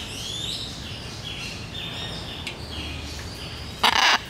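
Macaw parrot calls from a wild bird, repeated harsh descending squawks over a steady outdoor background, with one louder burst near the end and no talk.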